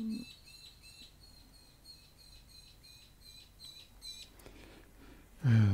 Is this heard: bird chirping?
yes